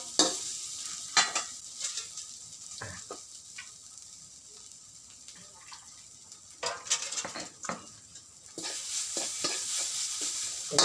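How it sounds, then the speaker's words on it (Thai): Thai curry paste is stir-roasted in a pan, a soft steady sizzle punctuated by repeated scrapes and clinks of a utensil against the pan, swelling louder near the end. "คั่วพริกแกงครับ คั่วป็นหอมๆครับ"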